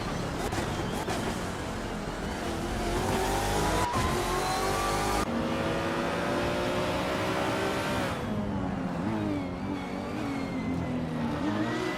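Race car engines in a racing video game roar continuously, pitch sweeping up through the gears as cars accelerate. The drone stays loud and close throughout, with a sharp shift partway through as the engine note changes.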